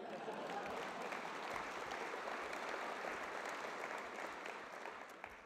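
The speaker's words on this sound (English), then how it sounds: "Should get an applause on that." A large audience applauds at the Cal Poly convocation in 2018, a steady, distant wash of clapping that holds evenly and fades slightly at the close.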